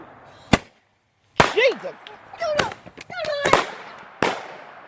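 New Year fireworks and firecrackers go off outdoors in several sharp, loud bangs spread across a few seconds, with a startled voice exclaiming and people talking between the blasts.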